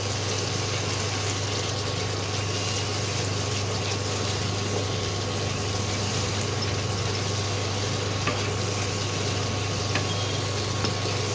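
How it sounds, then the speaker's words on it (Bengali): Mutton with spices stir-fried in oil for a home-cooked curry, giving a steady, dense sizzle that runs without a break over a low background hum. "এইবারে ভালো করে আবার কষাতে হবে।"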